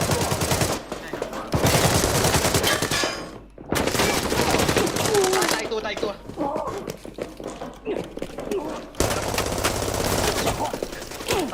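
Rapid bursts of gunfire in the video game Arena Breakout: Infinite crackle in dense volleys, broken by short pauses, with excited voices shouting over the shooting.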